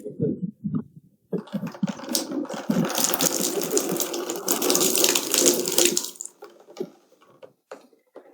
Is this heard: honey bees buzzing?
no